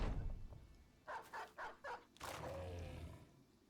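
Four short barks in quick succession from a dog in the video game Battle Brothers, fairly faint, followed by a longer growling snarl over low background rumble.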